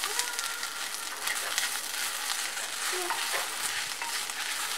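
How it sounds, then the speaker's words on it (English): Garbanzo bean patties cooking in a pan give a continuous close hiss and crackle of sizzling oil, steady throughout with small pops and stirring scrapes. "Let that simmer down in there."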